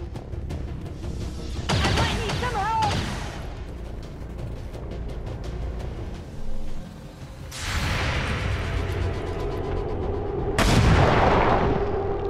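Automatic return gunfire in the video game XCOM 2, several loud bursts of shots separated by quieter stretches, with reverberant booming tails and a faint synthetic chirp among the first burst.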